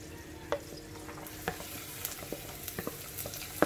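Chopped garlic, ginger, green chili and curry leaves sautéing in a pan, a low sizzle broken by distinct spatula scrapes and taps at irregular intervals, close and fairly quiet with no talking.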